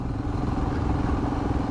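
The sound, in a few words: Royal Enfield Himalayan motorcycle riding at speed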